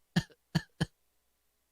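A voice imitates an exaggerated anime-style cough. Three quick, close coughs come in a burst, then a short pause and a fourth cough, all clear against silence.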